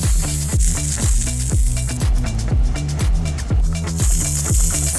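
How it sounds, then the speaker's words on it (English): Juicy Marbles plant-based steak frying in oil and butter in a pan over medium-high heat, giving a loud, continuous close sizzle with regular spattering pops and a rhythmic clatter of the pan or utensil. "Now I've been frying it for about 8-9 minutes"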